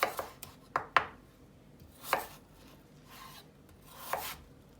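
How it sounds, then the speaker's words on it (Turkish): A knife cuts through a potato on a cutting board for a vegetable casserole, giving a few sharp, close chopping knocks and scraping strokes spaced irregularly over quiet background. "Sırada patatesimiz var arkadaşlar. Patatesimizi şöyle nereden alayım? Şuradan ortadan önce ikiye keselim."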